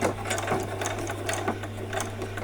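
Sewing machine running forward while sewing doll jeans, a close, continuous rapid ticking of the needle over a steady motor hum.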